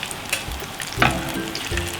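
Zucchini fritters (mücver) sizzle in a frying pan, a close, steady crackle of hot oil with scattered pops and an occasional scrape as they are lifted out.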